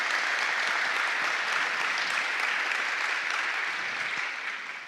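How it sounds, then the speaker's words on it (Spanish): Sustained applause from a church congregation at a worship service, dense, even clapping filling the room for several seconds before tapering slightly at the end. "Un aplauso para los que se están uniendo con nosotros."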